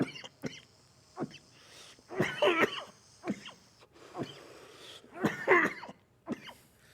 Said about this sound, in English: Do you guys edit out the coughs?